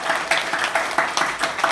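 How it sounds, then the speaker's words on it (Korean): A church congregation at a Harvest Thanksgiving Sunday morning service claps in thanks, the clapping in short, regular bursts at a quick, even rhythm throughout the brief moment. "이번 게 한번 박수 한번 좀 고맙다고 박수 한번."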